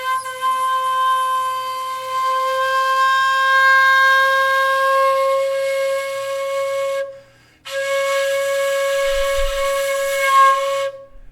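A shakuhachi flute holds a bright, sustained breathy tone that cuts out abruptly partway through, then resumes and continues steadily to the end.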